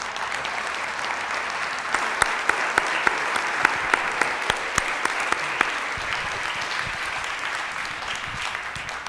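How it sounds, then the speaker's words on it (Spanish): An audience at a lecture event on anthropology and revolution applauds steadily for several seconds, a dense wash of clapping with a few sharper individual claps standing out near the front. "Aplauso, caray."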